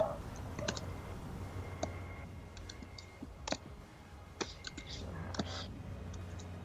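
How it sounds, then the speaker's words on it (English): Computer keyboard typing during an online Dungeons and Dragons session: quiet, irregular clicks in short clusters over a low background hum, with faint murmuring in the room. "I'm typing."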